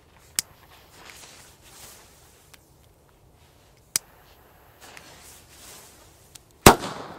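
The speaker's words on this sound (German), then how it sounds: "Dann geht's weiter mit den Harzer Knallern." Old-school Harzer Knaller friction-strike firecrackers go off outdoors, three sharp isolated bangs spaced seconds apart with a final loudest crack near the end, separated by quiet rustling and faint footsteps.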